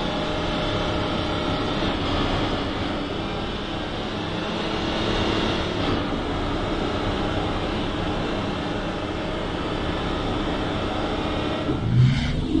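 A video game subway train (Trainz, R46 on a Blue Line) rumbles steadily with a low, continuous roar and hiss, moving off over several seconds, close and enclosed.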